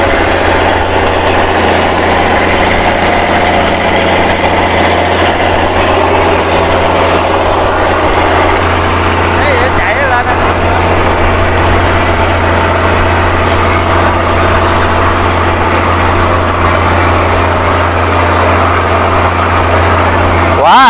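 A boat with a composite hull, powered by a Mitsubishi 6D16 diesel engine, runs at speed on a test run with a loud, constant low roar and a steady hum throughout, with no voices heard.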